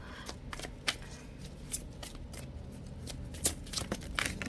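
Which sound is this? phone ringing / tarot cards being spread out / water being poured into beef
tarot cards being spread out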